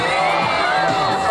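A street performance audience at a Yokohama street festival cheers and whoops loudly, with children shouting in a dense, sustained crowd roar that stays close and loud throughout.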